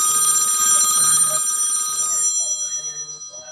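A telephone bell rings loudly in repeated trilling bursts, close by, with no talking over it; the ringing tails off toward the end.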